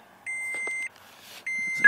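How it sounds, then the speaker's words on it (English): A cell phone's Bluetooth connection chimes inside a 2008 Toyota Tacoma TRD Access Cab: two steady, clear electronic beeps, each lasting about half a second, close by over quiet cabin hum. "You hear the beep of my cell phone? That's the Bluetooth kicking in."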